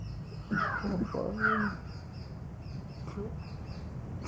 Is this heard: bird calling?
yes